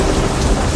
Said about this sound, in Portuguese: O profeta Elias ouviu o ruído de uma chuva abundante.